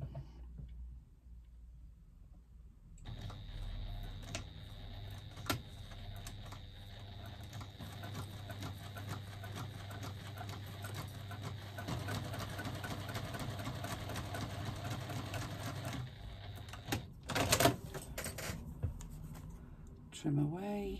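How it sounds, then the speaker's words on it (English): Sewing machine running steadily for roughly fourteen seconds while top stitching across faux leather with a 3/8 inch seam allowance, a continuous mechanical hum with light rhythmic clatter, quiet at first and then stopping near the end with a few clicks. "we're going to top stitch across the top to secure it using a 3/8 of an inch seam allowance"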